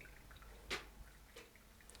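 Brewed coffee drips through a Flower Dripper pour-over cone, with one faint, close drip and a softer second one against near-silence.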